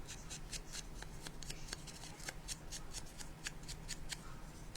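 Scissors snip closely around printed paper shapes for a Christmas bauble craft, a steady run of quick, crisp cuts with a soft rustle beneath, near and fairly quiet.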